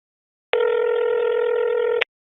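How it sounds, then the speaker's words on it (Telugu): One steady electronic telephone tone sounds for about one and a half seconds, clean and fairly loud, starting and stopping abruptly with silence on either side. "మీ మేనేజర్కి ఫోన్ చేయి."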